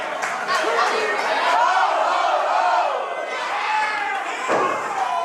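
Dense wrestling-event crowd in an arena, a sustained roar of cheering and shouting voices that swells and holds throughout, with a few thuds from the ring beneath.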